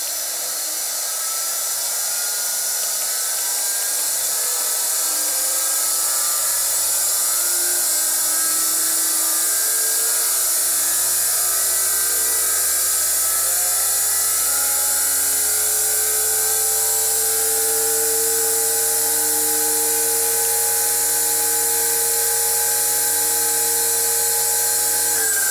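Electric motor driven by a VFD inverter steadily ramping up to 90 Hz, a continuous rising whine with a high-pitched tonal hum growing over about 25 seconds, close and alone with no talking.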